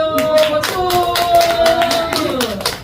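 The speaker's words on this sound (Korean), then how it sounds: "박수." Members of a church youth group clap during a Sunday youth worship service, a short run of distinct, rhythmic handclaps heard over sustained music tones.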